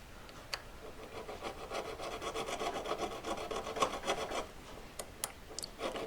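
Hand file rasping a brittle V-claw piece in steady up-and-down strokes, a continuous close scraping with a few sharp clicks toward the end.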